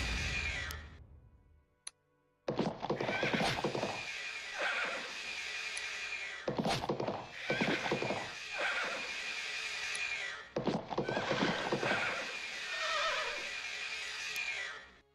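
Horses in the Battle for Wesnoth video game whinny repeatedly over a steady clatter of hooves, with several loud neighs rising and falling in quick succession throughout.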